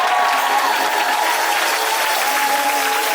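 A church congregation breaks into loud, sustained applause, a steady dense clatter of many hands filling the room from start to finish.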